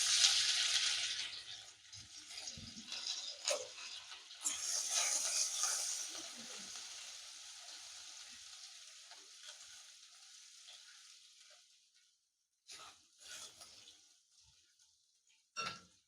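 Grated ginger sizzles in hot oil in a pan, a broad hiss that is loud at first and then fades over several seconds, with a few faint clinks and stirs near the end.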